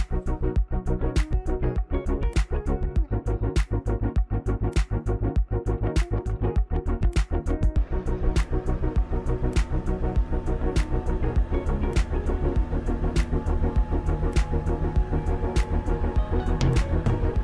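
Camper van engine labouring up a steep, muddy hill, a loud, steady droning rumble with regular rhythmic knocks throughout and no talk.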